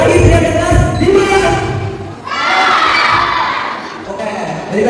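Young taekwondo students shout loudly in unison during a belt grading exam, with a group yell near the start and a longer, sustained collective shout after a brief dip, set in an echoing hall.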